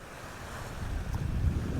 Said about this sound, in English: I'm certainly hoping you can hear these waves over the wind.